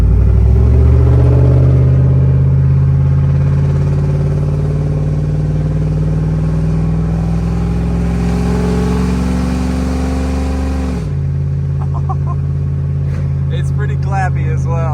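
A straight-piped, cammed truck roars down the road, its loud, clappy engine droning steadily with shifting revs before easing off near the end, where faint clatter follows.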